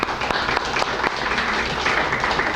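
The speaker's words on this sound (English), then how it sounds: "I'd like to give you a round of applause for" Applause for agency staff at an office dedication and open house, a brief round of clapping with a few sharp, distinct claps standing out near the start over a steady patter.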